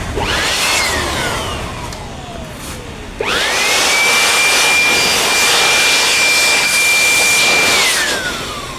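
A new electric air blower runs at a steady high whine while it blasts dust out of a decade-old desktop PC. It spins up, cuts out briefly, then spins up again and holds loud and constant before winding down.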